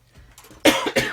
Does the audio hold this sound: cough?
yes